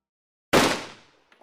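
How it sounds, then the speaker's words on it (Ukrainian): A single loud gunshot cracks out of silence and decays quickly, followed by a couple of faint clicks. "звучить постріл"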